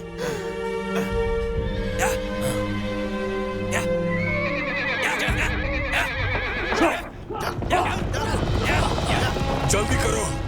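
Horses neigh and whinny loudly in a martial arts film scene, their calls layered over a dense score with hoofbeats and a rising mechanical rumble throughout.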